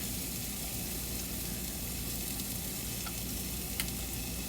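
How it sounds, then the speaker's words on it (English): Garlic and onions sizzle steadily in a hot pan, a dense, even frying hiss with no pauses and no voices over it. "we're going to add in the garlic and also the onions"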